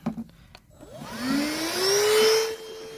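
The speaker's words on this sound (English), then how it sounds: "I'm gonna grab the vacuum. Let's see, we got our handy vacuum here." A handheld vacuum starts up near an RV furnace, its motor whine rising in pitch as it spins up after a few handling clunks, then holding a loud, steady whir before cutting off abruptly.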